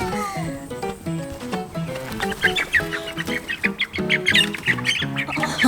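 Escaped meat birds squawk on a farm in loud, rapid, overlapping bursts, near and busy throughout, with clucks mixed in.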